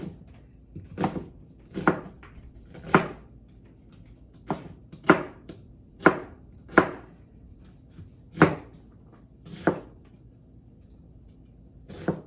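A knife chops an onion by hand on a cutting board, giving about a dozen sharp, close thuds at an uneven, unhurried pace, with quiet gaps between strikes and no talk.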